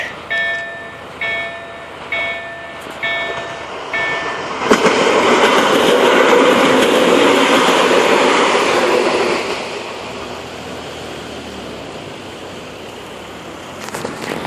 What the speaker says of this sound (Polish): Tam jedzie pociąg.